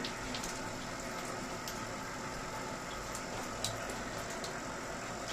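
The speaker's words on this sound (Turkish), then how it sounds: "musluğu açmamız lazım burada musluktan suyumuz geliyorsa" Water running steadily from a tap during installation of a smart water purification tank, a continuous soft hiss and splash at moderate distance with no talk.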